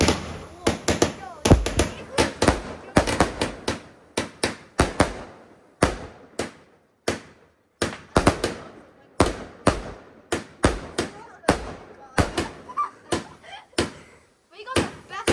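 Bonfire Night fireworks in a neighborhood backyard display burst in rapid, loud cracks and bangs, dozens of sharp reports in volleys with short gaps, fairly close, as people talk in between.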